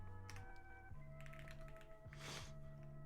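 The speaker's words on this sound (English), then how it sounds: "my typing is so slow right now" Typing on a computer keyboard, a quick run of soft key taps under a steady background of game music and tones.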